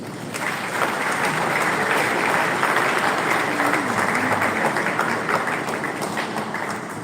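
Applause from the audience at a stakeholders meeting on the Edo State governorship election, honouring the commission chairman: a dense, sustained roomful of clapping at even loudness throughout, with faint voices underneath.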